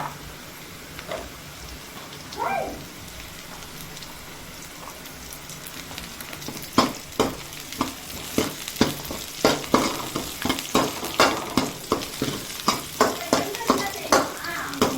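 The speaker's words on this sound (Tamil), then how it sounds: "அப்படியே லைட்டாக பூண்டு சேர்த்துப்போம்." Garlic dropped into hot oil in a home kitchen pan, a soft sizzle that grows into a run of rhythmic scraping stir strokes, close and fairly loud, with no talk.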